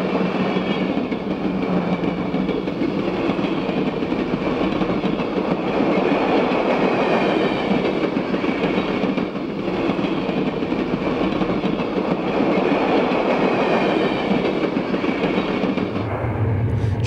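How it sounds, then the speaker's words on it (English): Union Pacific combined cities passenger train rolling through a junction and gaining speed, a loud, steady rush of wheels with faint clickety-clack, continuing unbroken for a long stretch. "Train 104, the combined cities train, eases through the junction and then gains speed as it races east."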